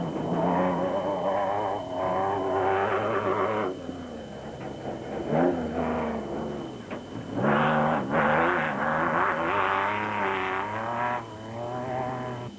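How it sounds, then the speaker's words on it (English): Rally race cars at the 2005 Toyota Dealer 1000, among them a Jimco 3.4 Porsche, roar past loud and close, engines droning steadily with rising and falling revs across the whole stretch, no voices. "Gary Beltelt and Siegfried Rousseau were moving well, but taking no chances"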